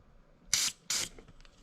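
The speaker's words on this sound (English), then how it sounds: "We're gonna spray this with a little bit of" Two short, forceful hisses of PB Blaster penetrating oil sprayed onto a car battery terminal, close to the microphone, with a brief pause between bursts and faint handling noise afterward.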